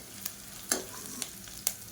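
Onions sizzle softly in a pan while cooking a pea and potato curry, with a few brief scraping stirs punctuating the quiet frying sound.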